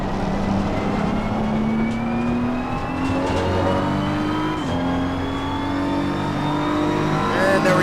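Race car engine in a racing video game, Assetto Corsa Competizione, holding a steady loud drone with rising pitch as it accelerates through the final turn of a lap.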